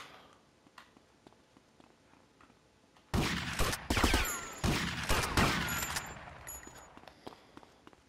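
Guns fire in GTA Vice City, an open-world crime game: after a quiet stretch of faint ticks, several bursts of rapid automatic shooting break out, loud and close, with pauses and ringing tails between volleys.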